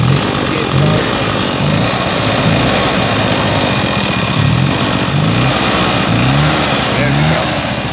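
A Husqvarna 150 BT backpack leaf blower running, a loud, steady two-stroke engine drone close by, with voices speaking over it.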